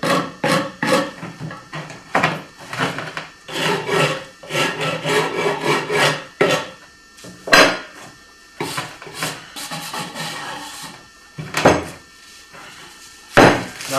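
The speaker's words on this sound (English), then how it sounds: "I just want to get the roughness off of the edges here. And you can use your little file for that as well" A small hand file rasps over the rough edges of a freshly unmolded hypertufa trough in short, uneven bursts of scraping strokes, close and fairly loud, with pauses between.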